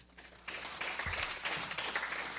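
Faint, scattered clapping from an audience at a Sunday feast class, applauding themselves. The patter is soft and distant and runs steadily for a couple of seconds.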